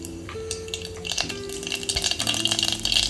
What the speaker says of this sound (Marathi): तेल टाकलं आहे राई घालते